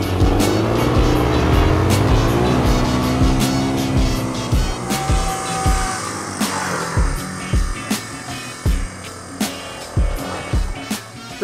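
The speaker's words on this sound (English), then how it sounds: "we have to do a front wheel skid contest" A Suzuki DR-Z250 or DR200SE dual-sport motorcycle revs close by while its front wheel locks and skids. The engine rises and falls in pitch, then a series of rhythmic thumps and scuffs follows.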